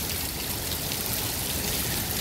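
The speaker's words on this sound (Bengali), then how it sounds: "রাস্তাঘাট যদি এইভাবে বৃষ্টি হতে থাকে আগামী 1 ঘন্টার মধ্যে রাস্তাঘাট পুরো ডুবে যাবে।" Dense, steady roar of heavy rain pouring down in Dhaka Cantonment, a constant wash of drops with no breaks or voices.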